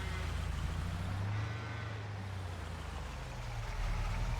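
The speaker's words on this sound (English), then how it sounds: "dairy cows, Jersey cows." Jersey dairy cows low and moo in Farming Simulator 22, a drawn-out bovine call over a steady background hum, moderately loud and with no talking.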